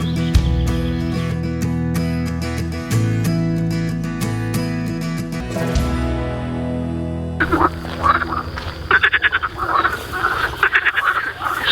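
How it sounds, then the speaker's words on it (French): Many frogs croak in a dense, loud chorus, rhythmic pulsing calls overlapping nearby, growing busier and more chattering toward the end. "on a droit à un concerto de grenouilles"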